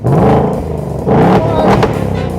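The V8 engine of a 2024 Mustang GT, started remotely, idles loudly up close and is revved in two quick bursts, its deep rumbling note swelling and falling between them.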